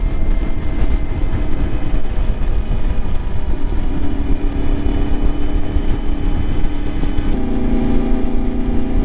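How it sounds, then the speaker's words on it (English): An Ibex 450 motorcycle fitted with an Uncle Wang's Shop ECU upgrade drones along the Ortega Highway, its engine a loud, steady hum with wind rush and no talking. "What a pleasant motorcycle."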